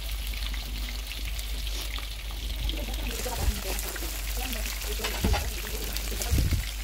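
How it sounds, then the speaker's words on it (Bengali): Chicken fries frying in hot oil in a pan, a steady crackling sizzle with occasional louder spatters and soft clinks, continuous throughout. "চিকেন ফ্রাইগুলো কিন্তু ভাজা হয়ে গেছে"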